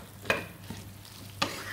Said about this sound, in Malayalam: ഈ അരപ്പൊക്കെ ഇതിൽ നന്നായി പിടിച്ച് ഫ്രൈ ആയി വരണം. എണ്ണ തെളിയുന്നതുവരെ നമുക്ക് ഇളക്കിക്കൊണ്ടിരിക്കാം.